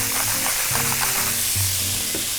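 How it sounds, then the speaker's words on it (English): Steak sizzling steadily in avocado oil in a hot skillet, a loud continuous fry hiss with low-pitched background tones running underneath. "a little avocado oil into the skillet. Slide that steak right into there."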